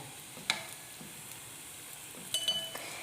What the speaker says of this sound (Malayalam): ഇങ്ങനെ നമ്മൾ പൊട്ടാതെ ഇത് ഇളക്കിയെടുക്കണം കേട്ടോ